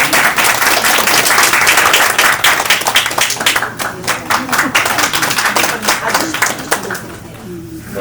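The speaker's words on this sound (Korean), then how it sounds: "박수 부탁드립니다." A crowd at a residents' information meeting in Seobinggo-dong claps together loudly and continuously, the applause thinning out toward the end.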